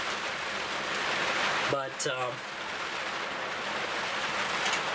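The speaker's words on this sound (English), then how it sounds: "I'm gonna have to go outside in the rain, take a look at the gutters, and see what the hell's going on" Steady rain falls outside, a dense close hiss that runs throughout, briefly broken by a short spoken word and a couple of clicks partway through.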